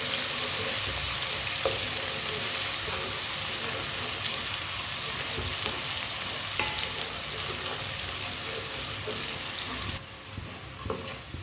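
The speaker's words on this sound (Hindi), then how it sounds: "एक चम्मच कुटा हुआ लहसुन, लहसुन को भी 2 मिनट के लिए पका लेंगे" Crushed garlic, about a spoonful, cooking in a pan for a chicken and turnip dish, giving a steady close sizzle with occasional stirring clinks throughout, no talk.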